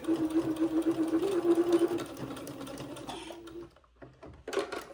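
A sewing machine tacks a seam on a cotton diaper shirt, its needle chattering in a fast steady run for about three seconds, then a brief pause and a short final burst of stitching, close and clear.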